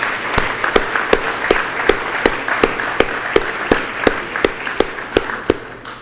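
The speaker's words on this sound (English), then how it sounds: "Let's give a round of applause for all of their hard work that we saw today." A crowd at a city State of the City address claps, a dense steady applause with sharp, regular individual claps standing out, lasting several seconds without speech.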